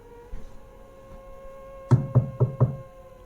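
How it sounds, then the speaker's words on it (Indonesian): Four firm knocks on a wooden front door sound in an evenly spaced, close burst after a quiet room-tone stretch, staged as an audio drama effect. "terdengar suara ketukan dari pintu depan"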